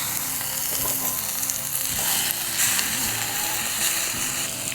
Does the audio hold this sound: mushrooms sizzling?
yes